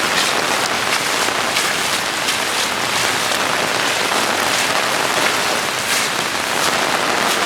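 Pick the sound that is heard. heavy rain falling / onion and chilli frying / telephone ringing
heavy rain falling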